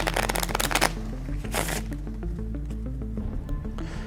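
A deck of playing cards is riffled and shuffled in two quick, crisp bursts, a longer one at the start and a shorter one a moment later, over steady background music.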